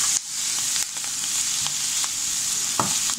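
Cuban ajiaco stew being stirred in a pot after seasoning, a continuous frying sizzle with occasional spoon scrapes and knocks against the pot.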